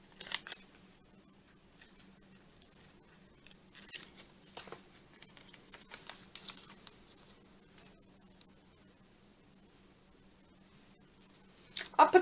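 Scissors snip paper pieces for a collage in short scattered bursts, quiet and close, with a louder cluster of cuts at the end and a faint steady hum underneath.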